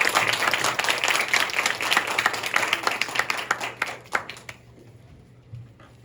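An audience at a Korean lecture event claps, a dense, loud wash of applause that thins and fades out after about four seconds, leaving low room noise.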